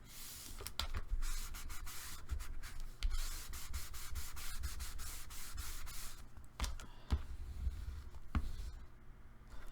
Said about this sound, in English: I'm going to turn it over and burnish.